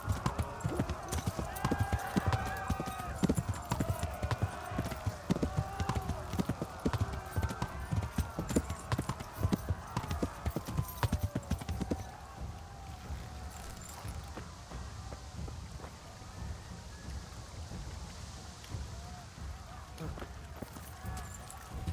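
Rhythmic clip-clop of a horse's hooves in the medieval video game Kingdom Come: Deliverance, a close steady trot that slows and fades about halfway, with speech and faint ambience in the background.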